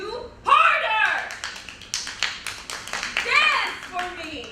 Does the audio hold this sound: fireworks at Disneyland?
no